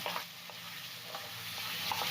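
Chopped tomatoes with turmeric and coriander powder sizzle in a pan for misal, giving a steady, faint frying hiss with a few light stirring clicks.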